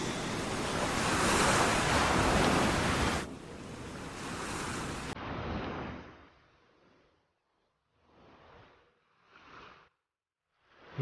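Ocean waves wash ashore at the seaside, a broad loud roar of surf that drops away into softer, separate wave swells with quiet gaps between them.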